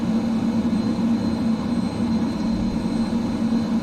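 A heavy F-15C jet in the MSFS2020 flight simulator, carrying two wing fuel tanks, roars through its takeoff with a steady, loud engine drone and a sustained low hum, with no talk over it.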